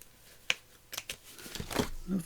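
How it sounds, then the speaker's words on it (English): Scissors trim loose thread ends on flea-market fabric for a journal page, making a few quick, soft snips close by with light rustling between them. "Trim the ends off. Let's just trim that up there."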